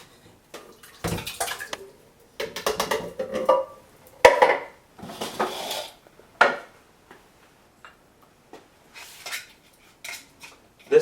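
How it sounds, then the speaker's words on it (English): A utensil stirring pureed carrots and vegetables into 28 ounces of organic crushed tomato sauce in a pot, giving intermittent close scraping, wet squelching strokes and occasional sharp clinks against the side. "Now we're going to blend our pureed vegetables with our 28 ounce of tomato sauce."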